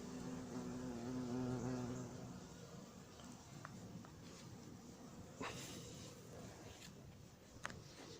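Hornets buzz near a beehive at an apiary in Montgeron, a faint low droning hum strongest at the start, fading into quiet ambient outdoor noise with a few small clicks.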